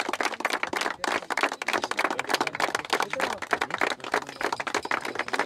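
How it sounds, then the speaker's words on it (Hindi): A crowd claps at a medal event, a dense, loud and close round of applause that carries on unbroken, with no clear pause between rounds. "सो दो बार तालियां।"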